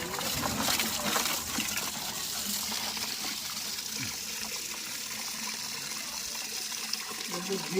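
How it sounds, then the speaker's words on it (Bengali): Gamari tree seeds are washed in water, with running, gushing water and trickling splashes close by throughout while a voice talks over it. "জলে আমরা ধুয়ে নেব"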